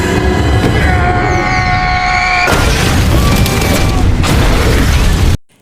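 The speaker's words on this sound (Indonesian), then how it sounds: "John pun langsung melompat dan akhirnya jet pun meledak" A jet blowing up in an action movie scene: a loud whining engine tone gives way to a heavy booming blast with dense rumbling debris that continues for several seconds before cutting off abruptly.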